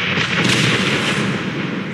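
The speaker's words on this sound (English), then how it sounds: "try generating an explosion sound" An AI-generated explosion sound effect: a dense, continuous roaring rumble with rough crackling texture, loud and sustained for two seconds without a distinct onset or decay, and no voices.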